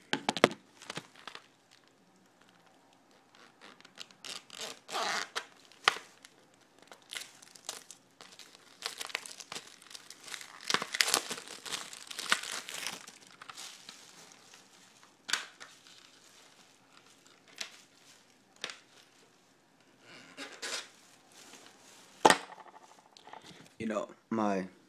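Knife slicing and peeling open the packaging of an album: close crinkling plastic, scattered scratches and tearing bursts in irregular clusters, with a voice speaking now and then.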